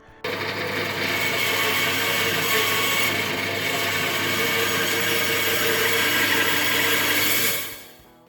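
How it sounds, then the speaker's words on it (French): A band saw runs steadily, its loud whine and buzz holding through a long cut into a wooden Telecaster guitar body before winding down at the end. "il s'agit de découper le corps à la scie ruban à 1 ou 2 mm à l'extérieur du tracé"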